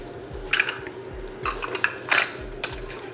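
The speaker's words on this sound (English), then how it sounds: "I'm going to go ahead and add my eggs. Scramble that up real good." Eggs being scrambled in a pan for crab fried rice, a utensil scraping and clinking against the metal in quick, repeated strokes, close and fairly loud, with no talking.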